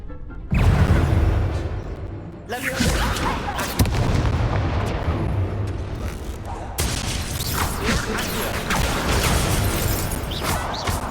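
Fiery spell blasts cast in Hogwarts Legacy, heavy booming bursts and crackling roars that repeat several times at full loudness with brief pauses between them, no talking over them.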